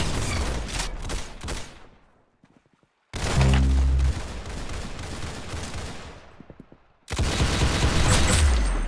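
Heavy gunfire from the video game Arsenal comes in loud, dense volleys of rapid shots with booming impacts, broken by a short near-silent gap before the firing resumes close and intense.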